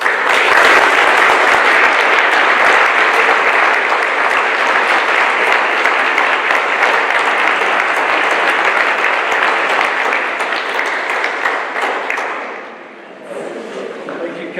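Loud, dense audience applause at an anniversary celebration for a county historical society, sustained evenly for about twelve seconds before quickly fading to scattered claps.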